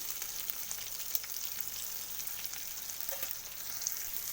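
Cumin-ginger paste and turmeric sautéing in ghee, a soft continuous hiss of frying in the pan with occasional faint pops, quiet and steady without talk.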